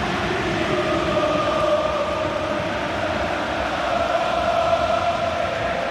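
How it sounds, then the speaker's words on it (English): AC Milan supporters fill a football stadium during the Inter vs Milan derby with a loud, unbroken crowd roar, a dense wall of massed voices that holds level throughout, with no commentary over it. "It's an astonishing noise being generated by the AC Milan supporters here at 2-0 down"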